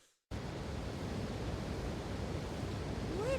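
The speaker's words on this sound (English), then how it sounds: "The sound of tons of gallons of water crashing against the bottom of the waterfront, it's actually really fucking loud." Waterfall crashing down in the video game Eternal Sonata, a steady loud broadband roar of falling water that starts abruptly after a brief silence and holds constant, with a faint rising tone near the end.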